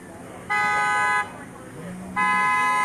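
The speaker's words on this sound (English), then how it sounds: "All the honking that you hear is in support." Car horns honk in support at a protest outside Derek Chauvin's home in Windermere, Florida: two long, loud blasts close by, a voice briefly audible between them.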